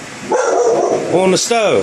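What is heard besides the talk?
dog barking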